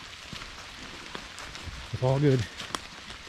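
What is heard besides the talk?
rain falling on hiking trail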